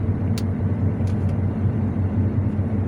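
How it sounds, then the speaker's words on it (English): An Alfa Romeo engine rumbles steadily up close, misfiring, its low drone running throughout with a few brief sharp ticks over it and no voices. "Misfiring."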